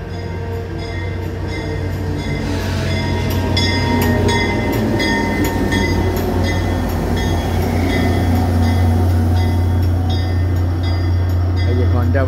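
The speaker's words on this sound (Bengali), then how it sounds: "এই যে ঘন্টা বাজিয়ে একটি ট্রেন এলো।" A double-decker commuter train pulls into Prospect Heights railway station, a steady loud rumble of wheels and carriages with a brief squeal, while a crossing bell rings beforehand and a voice talks over it.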